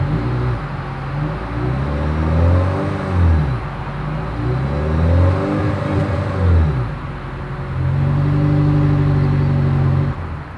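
A 2023 Toyota Crown hybrid sedan idles and revs in several rising and falling swells, a steady mid-pitched exhaust drone heard close up.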